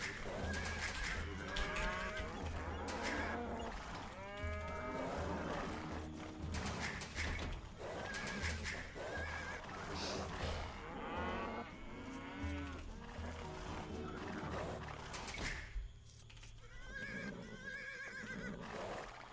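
Cattle moo repeatedly in a video game, a run of loud drawn-out calls mixed with horse whinnies and mechanical game noises over a steady background.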